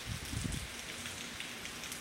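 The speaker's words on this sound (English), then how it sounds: "And I am starting to get rain on me." Heavy rain from Hurricane Michael falls in the early morning outdoors, a steady dense hiss of drops pattering on surfaces, with a slightly stronger burst near the start, fairly faint and with no voices.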